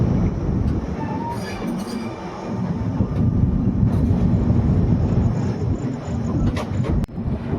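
An Indian overnight express passenger train, 18574 Bhagat Ki Kothi–Visakhapatnam, rolls over points while switching onto its main line, with a heavy continuous rumble, rattling carriages and faint wheel squeals heard from on board.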